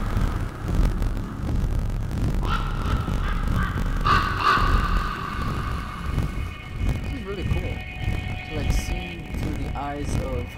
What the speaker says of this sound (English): Still hearing the bird.